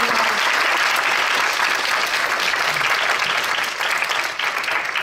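An audience at an incubation program demo day applauds warmly and continuously, a dense, fairly close wash of clapping that fills the whole few seconds.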